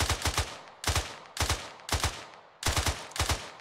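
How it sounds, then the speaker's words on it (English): Bursts of automatic gunfire in Arma 3, loud and close, fired in short rapid volleys of about three rounds each with brief pauses between, with no talk over them. "Taking fire."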